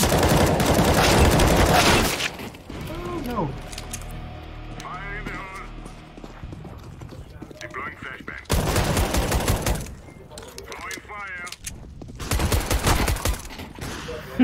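Bursts of M4 rifle fire in the game CS:GO come as three loud, dense volleys at the start, middle and end, with quieter in-game sounds and brief voice-like tones between them.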